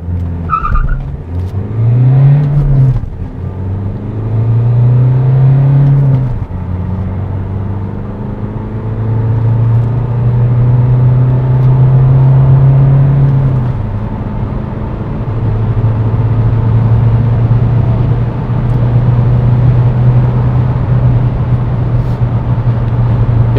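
Opel Mokka 1.6 CDTi 4x4 diesel with traction control off, accelerating hard from 0 to 100 km/h; engine revs climb and drop through several gear changes, loud and close, with no talking.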